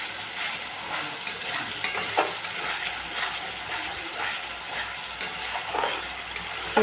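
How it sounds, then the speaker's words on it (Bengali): A masala for a fish-roe and potato curry is stir-fried in a pan, giving a continuous sizzle with scraping stirs and occasional utensil clinks against the pan, with no talk. "ভালো করে মশলাটা কষিয়ে নেব"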